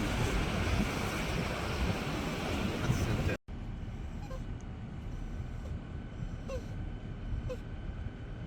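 Big ocean waves crash on rocks at the Restless Sea along 17 Mile Drive, Pebble Beach, California: a steady, broad roar of surf mixed with wind noise, broken by one brief cut, then continuing a little softer.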